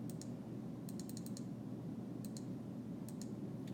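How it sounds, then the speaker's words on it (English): Numbers typed into a calculator, a few quick clusters of light plastic key clicks, faint and close over a steady low background hum, no talking. "Let me type it in real quick"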